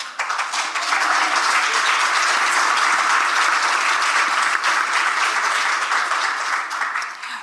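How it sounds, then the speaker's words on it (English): Loud, sustained applause from a conference audience at a climate solutions forum plenary, building quickly and holding steady for several seconds before tapering off, with no talk over it. "I hope you heard the loud applause that you just received for your first comments"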